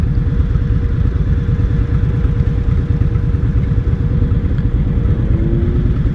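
An Indian Scout 60 motorcycle on a first ride, its engine rumbling loud and steady throughout with a dense low throb and faint mechanical clatter, no voices.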